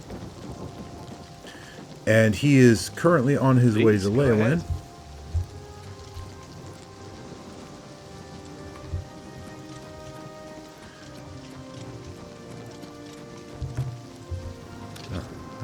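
Steady rain falls with low rumbling thunder outside the gate of Bravil in Oblivion Remastered, a soft continuous patter in the background while someone talks over it for a few seconds.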